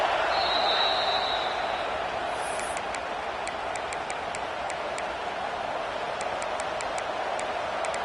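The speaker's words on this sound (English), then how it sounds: "This crowd trying to do its part to get inside the kicker's head." Steady roar of a football stadium crowd as the kicker trots out, a broad, sustained wash of noise with a few sharp ticks and taps on top, continuous throughout.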